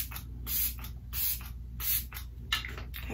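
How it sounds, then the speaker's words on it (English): Setting spray misted onto a face in a makeup routine, four short hissing pump sprays in an even rhythm, close and clear with no talk. "face respray again"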